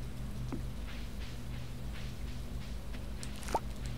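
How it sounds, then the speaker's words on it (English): Steady rain in the Stardew Valley video game, an even wash of pattering over a low rumbling bed, with a couple of brief soft game blips. "Still raining?"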